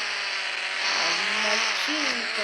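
A car drifts and skids in a driving game, a sustained bright tire squeal and whining engine tone running steadily with rising and falling pitch.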